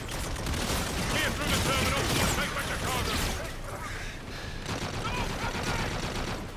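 Sustained gunfire and automatic weapon bursts in the Call of Duty: Infinite Warfare video game, loud and dense with clattering mechanical sounds, while voices speak underneath the shooting.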